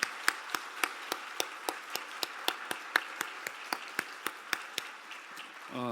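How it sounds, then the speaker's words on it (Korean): Church congregation applauds the choir during a Sunday service, sharp distinct claps in a steady, fairly sparse rhythm from a nearby audience, moderately quiet with no talk. "또 헌신하는 우리 성과대원들께 한 번 더 박수 한번 부탁드리겠습니다"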